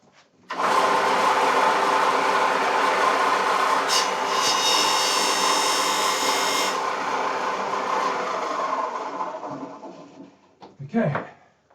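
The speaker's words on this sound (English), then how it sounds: "Let me just go and do that on the sander here." A sander trims a small wooden guitar part in a luthier's workshop, giving a steady, close grinding rasp for about ten seconds that brightens partway through, then winds down with brief handling noise at the end.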